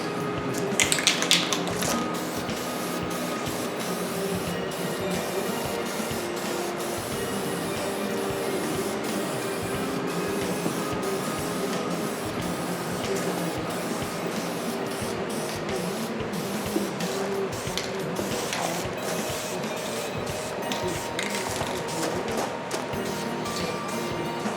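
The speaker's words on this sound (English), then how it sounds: "So you got to stay back and kind of fog it on, especially your last coat." Spray can laying a silver base coat onto a motorcycle in a steady, continuous hiss held from a distance, running nearly unbroken with small bursts and no talking.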